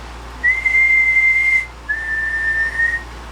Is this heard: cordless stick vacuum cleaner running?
no